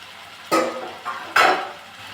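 Cut potatoes and eggplant stirred in a pot, two distinct scraping swishes of a spoon with a softer one between them, close and clear with no talk.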